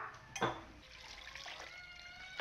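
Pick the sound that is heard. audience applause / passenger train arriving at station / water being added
water being added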